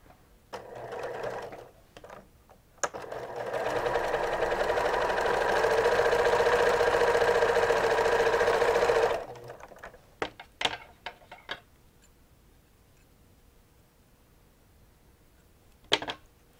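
Sewing machine stitching down a pressed, folded fabric loop for a Christmas stocking: a steady, close whirring run of about six seconds, with handling clicks and fabric rustle before and after.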